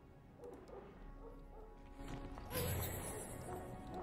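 A dog barks and yelps in a fight scene from the video game Dragon Age: Origins, with short barks over a low game soundscape and a crash-like burst midway.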